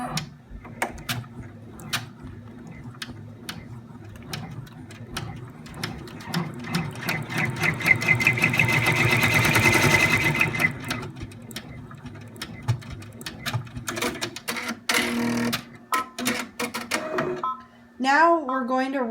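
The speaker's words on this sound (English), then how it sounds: "this is going to stitch the tack down" A sewing machine stitches down a tack on a fabric fidget spinner, running in rapid mechanical bursts with a steadier stretch in the middle, while a person talks between the runs.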